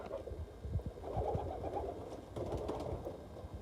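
Racing pigeons in a loft coo softly and repeatedly, a low murmuring coo close by at a quiet level, with no talking.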